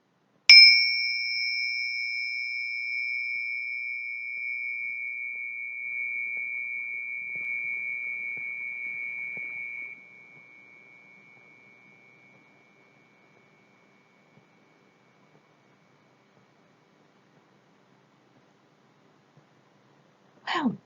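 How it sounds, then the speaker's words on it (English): A single clear chime rings out sharply and sustains a steady tone for several seconds, then slowly fades to silence in a quiet room. "Here comes the chime."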